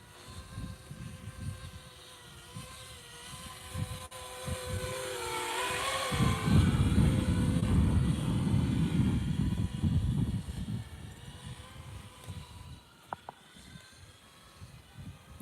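FPV cinelifter drone on a test flight, its motors giving a steady whine with shifting tones that swell louder in the middle and then ease off, heard alone without talk.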